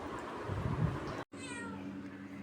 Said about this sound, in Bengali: কই বিড়াল? আজকেও বিড়াল আসছে।